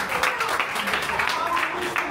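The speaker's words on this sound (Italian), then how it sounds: "Un applauso alla mamma, dai!" A group of young people on a trip to Naples clap together in a steady burst of applause, close and moderately loud.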